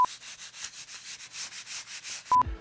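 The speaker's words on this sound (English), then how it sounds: "nothing a little 320 sandpaper can't handle" Wood hand-sanded with 320-grit sandpaper: rhythmic back-and-forth rasping strokes, about a dozen in quick steady succession, close and moderately loud, with a couple of short tonal beeps at the start and end.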